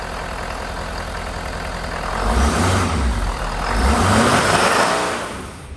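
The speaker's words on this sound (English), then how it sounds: "Rev it a little bit." The 6.7L Powerstroke diesel in a 2019 Ford F-450 Super Duty idles loudly, then revs up twice in smooth swells that rise and fall back toward idle, heard close and with no talk.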